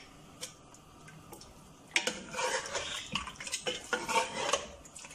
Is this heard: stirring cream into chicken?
yes